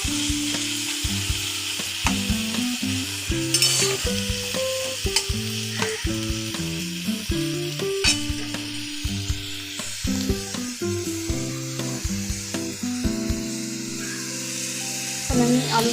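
Potatoes fry in a pan at home with ridge gourd beside them, giving a steady sizzle broken by frequent stirring clatters and scrapes. Someone speaks over the cooking now and then.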